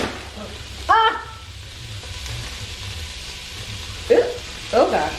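Sausages frying in onion juice in a pan, a soft continuous sizzle with a few louder stirring bursts and brief vocal exclamations over it.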